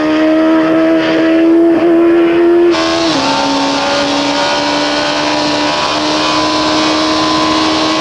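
A 2001 Suzuki GSX-R1000 sport motorcycle engine holds a loud, steady high-pitched drone as it accelerates on its back wheel, a brief gear shift dipping the pitch before it climbs steadily again.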